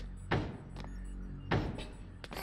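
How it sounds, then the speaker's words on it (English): A Mafia guy knocks on a window in A Hat in Time, giving two pairs of dull thuds, each a heavier knock followed by a lighter one, close and clear. "notice the Mafia guy knocking on the window"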